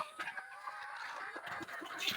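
Several native farm chickens cluck softly nearby in short, scattered bursts against a quiet background.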